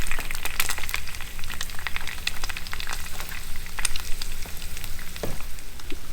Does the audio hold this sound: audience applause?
no